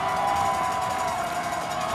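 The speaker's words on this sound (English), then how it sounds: "This crowd's going nuts." Football crowd at a rivalry game between Effingham County and South Effingham, a steady roar of cheering voices held at moderate level throughout, distant and diffuse without individual shouts standing out.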